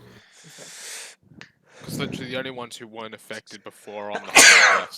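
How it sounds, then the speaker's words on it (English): A single sharp sneeze bursts out near the end of a lively group conversation, loud and close amid overlapping talk. "did you just hurt yourself sneezing?"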